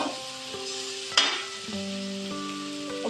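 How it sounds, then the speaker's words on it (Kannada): Beans with homemade coriander powder frying in a pan at medium heat give a steady, close sizzle, with a sharp clatter of stirring partway through and a faint hum in the background. "ಓಕೆ, ಫ್ರೈ ಆಗ್ತೈತಿ."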